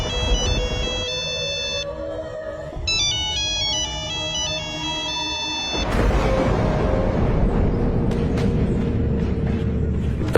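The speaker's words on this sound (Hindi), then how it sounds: "एक कॉल आती है।" Cartoon phone ringtone chirps in a repeating melodic pattern for about six seconds, loud and close, then gives way to a rumbling car interior with scattered clicks.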